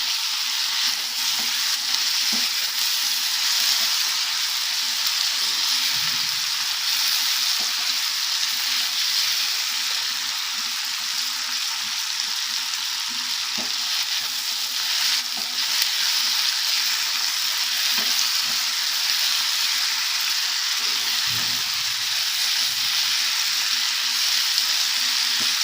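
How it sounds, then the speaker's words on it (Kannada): Tomatoes and onions fry in a pan for hotel-style bread masala, producing a steady, close sizzle throughout, with faint occasional scrapes of stirring. "ಟೊಮ್ಯಾಟೊ ಹಾಕೊಳ್ತಾ ಇದ್ದೀನಿ. ಈಗ ಒಂದು 10 ಮಿನಿಟ್ಸ್ ಚೆನ್ನಾಗಿ ಫ್ರೈ ಆಗಬೇಕು."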